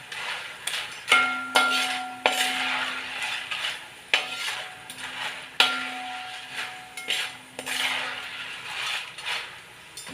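Jackfruit chips frying in coconut oil are scooped out into a strainer, with repeated metallic clinks and scrapes of a utensil against the pan in an uneven rhythm over a faint sizzle.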